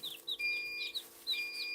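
Eight newly hatched chicks in an artificial incubator chirp close by with quick, high, falling peeps in irregular bursts, while a steady electronic tone hums faintly beneath them.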